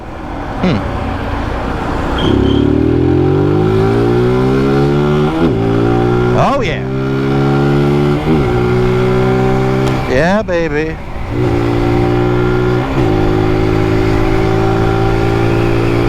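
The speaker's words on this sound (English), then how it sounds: "there's something about banging through the gears and banging a bike close to its rev limiter" A small 155cc motorcycle engine revs hard through several gear changes near its rev limiter, its pitch climbing then dropping with each shift, loud and close, with a brief voice over it.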